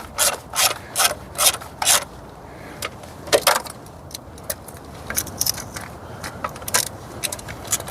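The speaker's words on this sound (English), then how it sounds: "So at this point, we're just running the screws down, right?" Ratchet wrench running down the valve cover screws on a 2005 Nissan Altima 2.5L four-cylinder engine, with several bursts of quick, close clicking separated by short pauses and lighter metallic ticks.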